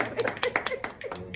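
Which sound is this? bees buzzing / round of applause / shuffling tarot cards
round of applause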